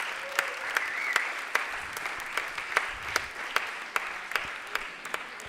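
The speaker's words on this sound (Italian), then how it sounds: "Applauso!" A comedy club crowd at a stand-up show breaks into applause, a full wash of clapping with sharp individual claps standing out. A faint brief whistle or cheer rises partway through.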